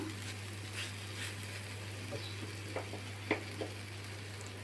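A spatula scrapes and stirs a thick raw mango nadu mixture in a kadai over low heat, giving a faint sizzle with a few sharp clicks over a steady background hum.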